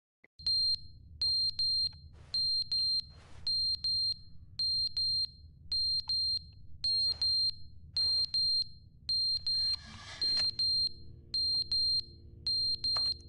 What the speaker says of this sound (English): Yeah, I'm not listening to that beeping anymore.